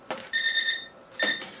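A kitchen timer goes off after two minutes, sounding two short electronic ringing beeps in a row, close and clear.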